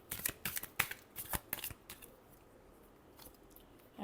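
Tarot cards are shuffled close up in a quick series of crisp riffling bursts that taper off into near silence, with no talk.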